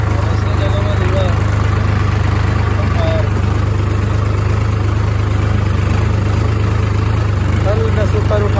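A tractor engine runs in rural Chhattisgarh with a steady low idling throb that holds even throughout. Voices talk faintly in the background over the drone.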